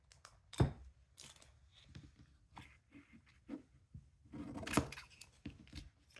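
Scissors snip and handle washi tape from a roll during a crafting session making paper pockets. Sharp, close cuts and light rustling come in irregular bursts, with two louder snips standing out against near-silence and no talking.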